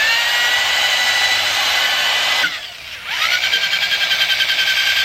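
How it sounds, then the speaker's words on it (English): Power buffer polishing car headlights, a loud continuous high whine that dips briefly as the pad is lifted or pressed, then returns with a pulsing, wavering tone. "Johnson is doing this side for the LED, I'm actually gonna start on buffing the headlights and the fog."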